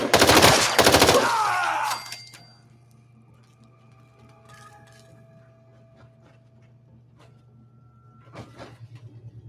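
Rapid, loud bursts of gunfire from the video game Fallout 4 (modded) crackle for about two seconds, then give way to a low steady hum with faint scattered clicks and a brief rattle near the end.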